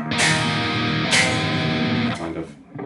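A gritty, distorted bass riff plays loudly and continuously, with a brief pause near the end before it picks up again.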